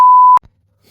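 A single sustained electronic beep, a pure steady tone lasting about a third of a second, loud and close, ending abruptly into near silence.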